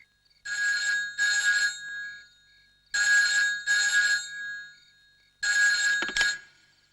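A telephone rings in loud double bursts, three pairs spaced by silence, after a number is dialed at night in a Malayalam crime film, ending with a clunk as the call is picked up.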